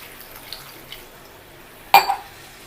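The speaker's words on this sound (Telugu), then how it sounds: "1 గ్లాస్ వాటర్ పోసుకోవాలి" A glass of water is poured into a simmering chicken curry in a cooking pot, making one short, sharp splash that fades quickly after a quiet stretch.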